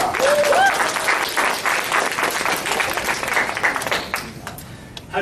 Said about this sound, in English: Let's give a warm round of applause for Mr. Erez Benari.